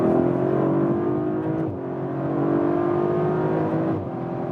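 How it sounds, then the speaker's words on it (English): An Audi RS5 Coupé's engine hums loudly and steadily under hard acceleration with paddle shifts, pitch rising and then briefly dipping at each gear change. "One more acceleration, let's use the shifting pedals"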